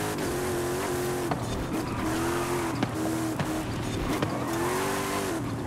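A tuned Hyundai Elantra drifting in Forza Horizon 5, its engine droning and revving steadily while tires squeal in repeated long wavering bursts through the corners, loud and continuous, with no talking.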